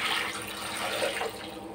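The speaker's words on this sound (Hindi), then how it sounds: "पानी डाल देंगे आप।" Water pours into lentils (dal) in a pot for South Indian sambar, a soft continuous splashing rush lasting under two seconds, fairly quiet and close with no talk.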